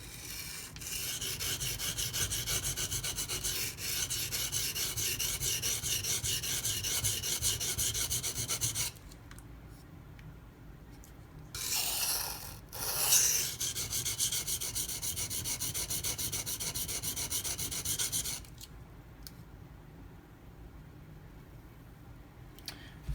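Steel edge of a Zero Tolerance 0393 knife in CPM-20CV being ground on a sharpening stone, a steady close rasping rub running for long stretches, broken by a short pause and a brief burst before the scraping resumes.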